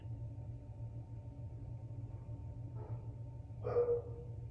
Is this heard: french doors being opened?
no